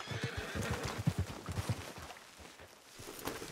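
A horse in the online western game Red Dead Online whinnies over a quick run of clip-clopping hooves, fairly close but quiet overall, with no talk.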